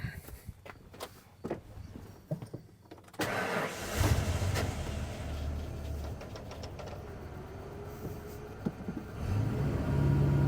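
A car engine is started during fuel-pressure troubleshooting: a few clicks and light footsteps, then the starter catches and the engine settles into a steady, close idle that rises slightly near the end.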